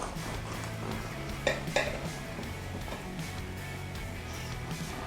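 A knife cuts a slice of condensed milk cake on a plate, with a couple of light metallic clinks and soft scraping over a steady background hum in a kitchen.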